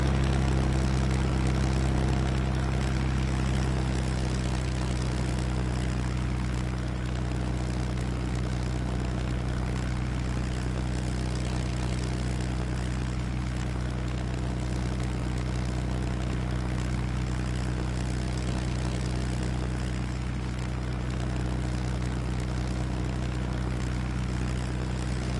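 Steady droning propeller engine of a light aircraft in Ultrawings VR, a continuous loud hum with strong low harmonics holding nearly constant as the throttle settles.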